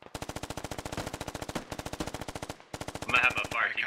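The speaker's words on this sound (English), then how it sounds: "Command, we are taking fire from approximately Charlie 9, T-pad 4, sub T3" Sustained machine-gun fire in the video game Squad: rapid, evenly spaced bursts hammer close by, pause briefly and resume, and a voice comes in near the end.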